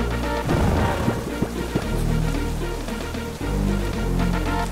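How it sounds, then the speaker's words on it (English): Rain Dance weather effect in the video game Pokémon Scarlet/Violet: a steady synthetic rain hiss under game music with low tones and a few sharp hits, moderately loud throughout. "It's now raining"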